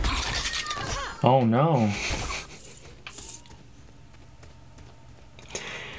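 A Lego tower knocked over and breaking apart, a clattering spill of plastic bricks under a brief exclamation, followed by quieter scattered rattles.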